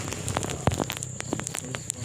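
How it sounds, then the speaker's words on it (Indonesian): Light drizzling rain falling outdoors during an afternoon fishing trip, a steady soft patter with scattered small drops ticking close by and occasional louder taps; no talking. "Hujan gerimis begini mantap."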